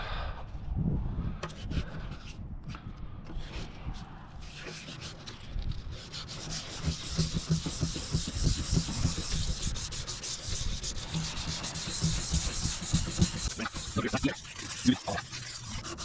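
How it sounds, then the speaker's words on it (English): Wet sanding a plastic car headlight lens by hand with sandpaper during a DIY restoration, giving a steady close rubbing and scratching that runs continuously, with a few louder strokes near the end and no talk. "So we're gonna wet sand. We want the headlight wet and the sandpaper."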